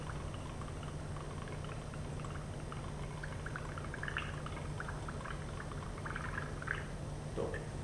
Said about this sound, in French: Vous déposez le gaz, donc le dihydrogène, dans votre solution savonneuse en émulsionnant le mélange.